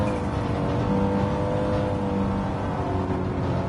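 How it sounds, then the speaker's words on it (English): An Audi race car at Watkins Glen in a racing video game, its steady loud engine drone and whine sustained throughout, close and unbroken, with no talking. "first time running the Audi at the Watkins Glen"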